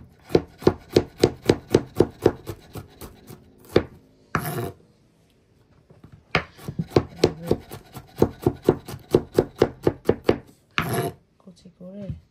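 A knife finely chopping bitter gourd on a board, rapid rhythmic taps in two long runs broken by short pauses and a few scraping sweeps, close and crisp.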